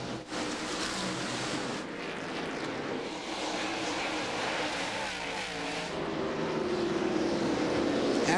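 Stock cars race around Bristol's half-mile speedway at the 2001 Busch Series Food City 250. A continuous, loud, roaring rush of engines swells steadily as the pack circles the track.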